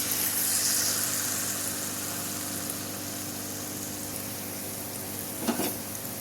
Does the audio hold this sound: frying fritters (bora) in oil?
yes